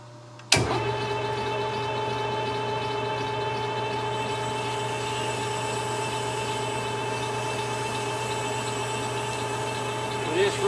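A lathe starts up abruptly and then runs with a steady motor hum and tonal whine while cutting back and forth on a vintage Craftsman drill press part, with a faint bump at the end.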